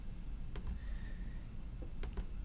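Keys pressed on a computer keyboard, a few faint sharp clicks spaced out in a quiet room, including a close double tap near the end.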